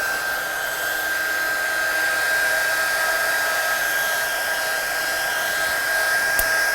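A handheld dryer blows a steady, loud whir close by, drying freshly stamped ink on a card. It runs without a break, with no talking.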